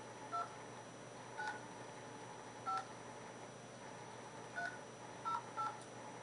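Telephone keypad tones as a number is dialed, six short beeps spaced irregularly over several seconds against a quiet background hum, with no talking.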